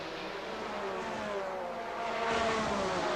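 NASCAR Busch Grand National race cars roar past at the 1988 Grand National 200, a dense, steady engine drone that swells slightly toward the end.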